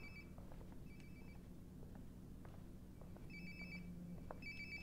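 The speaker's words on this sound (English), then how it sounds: "Sounds like my phone is definitely nearby." A phone rings nearby in the video game Life is Strange: Before the Storm, repeated electronic trills in short bursts over a quiet background.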